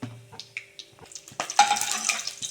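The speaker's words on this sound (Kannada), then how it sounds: "ಇವಾಗ ಒಗ್ಗರಣೆಗೆ ಉದ್ದಿನಬೇಳೆ ಮತ್ತು ಸಾಸಿವೆ ಹಾಕ್ಕೋಬೇಕು" Urad dal and mustard seeds hit hot oil for a South Indian rasam tempering, bursting into a loud, crackling sizzle midway after a few soft clinks and handling sounds, then holding a steady close hiss.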